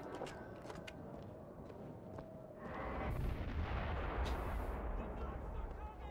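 Burst-fire repeater gun shooting in the video game Bioshock Infinite, faint popping reports that give way to a louder rumbling stretch of gunfire and blasts.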